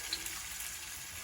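Banana-based unnakaya snacks sizzle in a pan of hot oil and ghee, a faint, steady crackling fry throughout a short moment.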